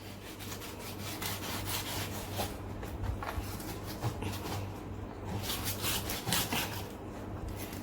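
A knife cutting and peeling the skin from a shark, a continuous close rasping, scraping rub with uneven strokes, fairly quiet and with no talking.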